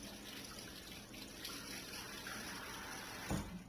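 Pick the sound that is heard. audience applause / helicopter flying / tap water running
tap water running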